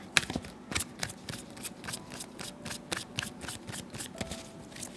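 Tarot cards are shuffled by hand in a quiet room, a rapid series of crisp riffling bursts and soft slaps repeating in an uneven rhythm, close and clear with no talk.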